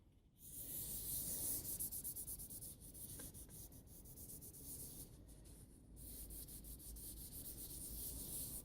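Shellac sanding sealer rubbed by hand onto a silver birch wood turning, giving a steady, close scrubbing and rubbing wash that runs almost the whole time with a few brief dips.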